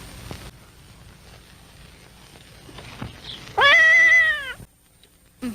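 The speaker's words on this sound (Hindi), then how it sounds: "ये तो घर की बिल्ली है" A house cat lets out a single loud, drawn-out meow that bends downward in pitch, clear and close against a quiet, faintly noisy background.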